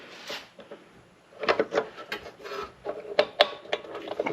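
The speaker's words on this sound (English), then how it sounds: "we can slide out the axle shaft" A steel axle shaft slides out of a Tuff Torq K46 transaxle, giving several short scraping, rasping pulls with metallic clicks, close and moderately loud, with no talking.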